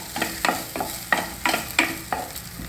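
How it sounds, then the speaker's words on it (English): A spoon stirs washed dal in hot ghee inside a pressure cooker, giving soft repeated scraping strokes about every third of a second over a light, steady sizzle, close and alone. "Just stir it for a minute in the ghee."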